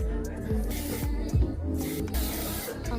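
Short bursts of aerosol spray hiss close by, several quick sprays in succession with soft handling noises between them.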